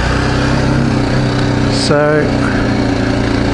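BMW G310GS single-cylinder motorcycle being ridden off-road on stock tyres: a constant close engine drone with a short rev change midway, heard under a spoken word.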